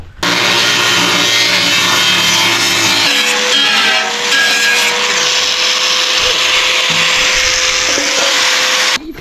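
Metal being cut to make an ash-cleaning opening in a homemade metal stove, with a loud, continuous grinding screech that changes pitch partway through and runs almost the whole time.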